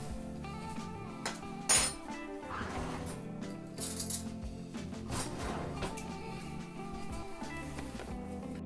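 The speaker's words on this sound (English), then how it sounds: "we're going to spoon our mixture onto our eggs" A spoon scrapes and taps against a dish while deviled egg filling is scooped onto egg halves, with faint clinks of cutlery and soft background music at low level.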